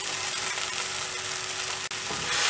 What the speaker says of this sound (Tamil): இதை ஒரு வாட்டி ஃப்ரை பண்ணிடலாம்